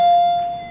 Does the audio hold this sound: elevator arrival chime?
yes